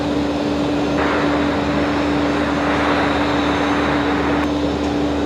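A Velocity airliner landing at Brisbane Airport at night makes a loud, steady engine roar with a constant hum running through it, close and unbroken throughout, with no voices.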